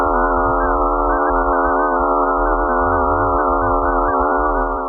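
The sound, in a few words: recorded sound of a comet traveling through space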